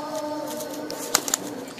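A pigeon held close by makes soft low coos, followed by a couple of quick wing flaps near the end, with no one speaking.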